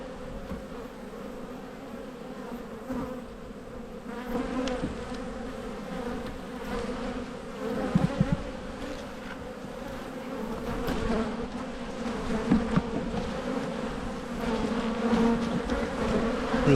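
Honey bees hum steadily around an open hive, a dense, continuous buzz close by with individual insects swelling louder as they pass, carrying on unbroken for the whole stretch with no voices.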